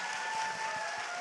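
Audience applause at a Korean talk show, a steady wash of clapping heard briefly from start to end at moderate volume, with a faint steady tone running underneath.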